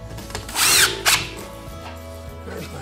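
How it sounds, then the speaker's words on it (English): A power drill drives a screw through drywall into wooden strapping: two short, loud whining bursts of the motor close up, separated by a brief pause and followed by quieter handling noise. "I like to throw a screw on every piece of strapping, just to mark where the straps are."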